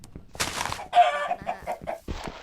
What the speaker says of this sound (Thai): ไก่ขา